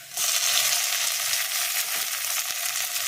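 Chopped tomato dropped into hot oil with frying ginger and garlic, setting off a loud, steady, close sizzle that holds evenly from start to finish.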